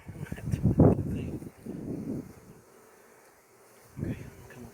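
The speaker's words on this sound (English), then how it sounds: "Amazing how many bees were on that thing." Honey bees buzz around a beehive being split outdoors, close droning hums that come and go in bursts, with a voice talking intermittently.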